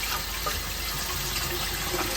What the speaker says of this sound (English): when you've turned your water off and you've drained the pipes, it can splutter and spurt a bit